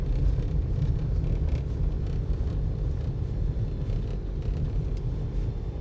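A BMW X5, started for the first time in over two months, runs with a steady, dense low rumble and faint rattling throughout, heard from inside the cabin with no talking.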